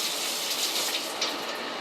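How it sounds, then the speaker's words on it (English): Water runs steadily over a scuba regulator being rinsed, a loud, continuous hissing splash with no break throughout. "point the regulator down, run water over the top, and then press the purge button"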